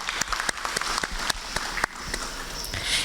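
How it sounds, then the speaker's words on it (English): Applause for parents at a school prize-giving day, a moderate crowd clapping with sharp individual claps standing out, continuing steadily before easing slightly. "Let us appreciate our parents with a round of applause."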